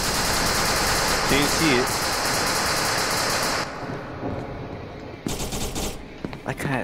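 Rapid automatic gunfire from the video game SCP: Secret Laboratory, loud and sustained, cuts off and then resumes in shorter bursts. A player speaks briefly over it.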